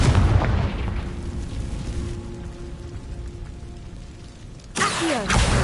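A Confringo blast curse explodes in the Hogwarts Legacy video game: a loud booming burst opens the clip, then a rumbling fade and softer tones, before another sharp explosive crack near the end.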